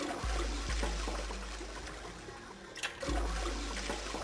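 Toilet flushing in the puzzle game 999, repeated flushes of a game toilet with a rushing, trickling water wash that swells, fades, then surges again, loud and close with no talk.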